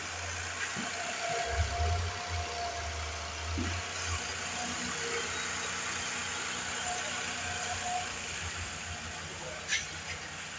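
A 2017 Nissan Pathfinder SV engine idles in drive, a steady low rumble with a faint hum that holds evenly throughout, broken by a couple of soft knocks and a brief click near the end.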